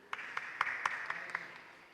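A church congregation claps during a sermon on healing, with scattered, irregular hand claps at moderate distance, thinning out and fading over a couple of seconds.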